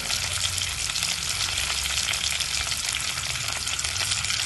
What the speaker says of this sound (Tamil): கடுகு போடுறேன்.